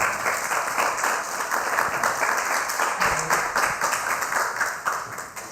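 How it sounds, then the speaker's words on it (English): Audience applause for the speakers at an architecture panel event, a steady wash of many hands clapping that continues evenly throughout, fairly loud and filling the room. "Round of applause for our speakers."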